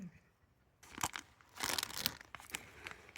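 A plastic bag of O-rings from an oil filter kit for a 2.7L EcoBoost Ford F-150 is crinkled and handled close to the mic. Bursts of crisp rustling and crunching come in uneven waves after a quiet start.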